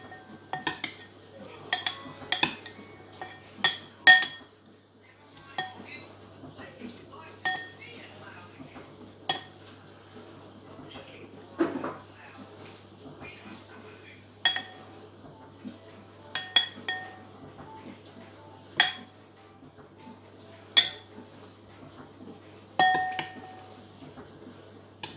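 Corn ribs tossed with dressing in a bowl produce scattered sharp clinks and scrapes of a utensil against the dish, spaced irregularly over quiet, close-up stillness.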